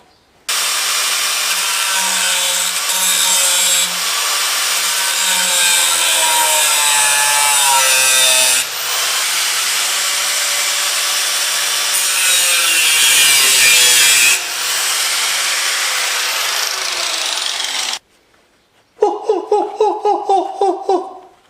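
A part held in a vise is sawn through at its neck, likely a sump, with loud, continuous rasping strokes for about seventeen seconds, then a pause and a brief burst of quicker, rhythmic cutting.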